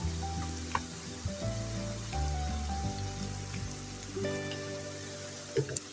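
Crispy potato snacks made from boiled potato frying in hot oil, a steady soft crackling sizzle throughout, with tonal hum and a few louder pops, no voices.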